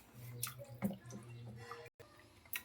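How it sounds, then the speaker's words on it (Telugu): Mutton paya trotters being washed with salt and water, giving splashy, dripping water sounds with a few sharp clinks and knocks, close and moderately loud, with no talking. "కొంచెం ఉప్పు వేసుకొని నీట్గా వాష్ చేసుకుందాం."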